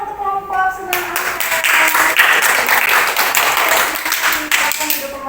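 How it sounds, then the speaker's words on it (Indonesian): Applause for the Sunan Ampel student group rises from a classroom audience and holds steady for roughly four seconds before tapering off, with voices briefly heard at the start and end. "Kasih tepuk tangan untuk kelompok Sunan Ampel."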